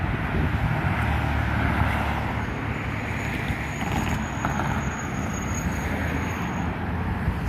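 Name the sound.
jet airplane taking off at McCarran Airport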